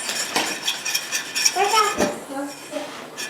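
A spoon stirs birdseed ornament mixture in a bowl, giving a close, continuous scraping and rattling of seeds against the dish with light clinks, and no one talks.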